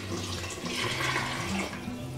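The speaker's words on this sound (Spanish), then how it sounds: "Agregaré 1 litro más de agua." A litre of water streams steadily into a pot of lentils with meat and carrots, giving a continuous close splashing rush for a couple of seconds.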